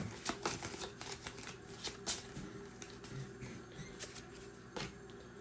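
A deck of cards being shuffled during a tabletop card game, faint repeated riffling and tapping bursts, quiet and close with no talking.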